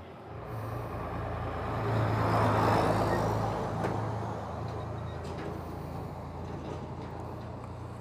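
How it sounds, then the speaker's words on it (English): Traffic passes on a busy, freeway-like road: a continuous low rumble of cars and heavy vehicles that swells as one goes by near the middle, then settles back to a steady wash. "All the cars coming by."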